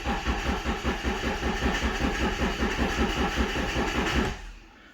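A high-mileage BMW diesel car engine cranks and catches, running with a steady, rough rhythmic idle throb close by for about four seconds before it cuts back to a low hum.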